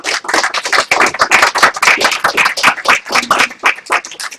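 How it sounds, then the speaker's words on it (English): A debate audience gives a round of applause after a speaker finishes, a close, loud burst of many individual claps in uneven rhythm, lively and sustained from start to end. "A round of applause."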